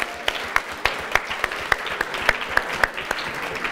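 An audience at the closing of a QA conference applauds a prize-draw winner with rhythmic clapping in unison, sharp evenly spaced claps about three or four per second over a softer background of scattered clapping.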